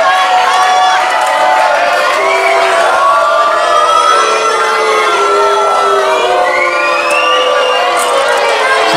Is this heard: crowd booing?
yes